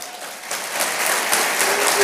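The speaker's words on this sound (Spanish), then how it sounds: "¿Alguien le va a dar un aplauso al Señor?" Congregational applause during a church sermon, a brief steady wash of many hands clapping that swells slightly over its two seconds.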